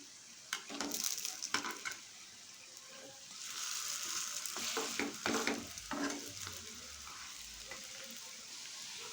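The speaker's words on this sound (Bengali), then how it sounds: "এই সাইডটা এভাবে গ্যাসের ফ্লেমটা লো করে আমি ভেজে নিচ্ছি" Taro leaf fritters fry in oil in a pan over a low gas flame, giving a steady close sizzle broken by bursts of spatula scraping and stirring, with no talk.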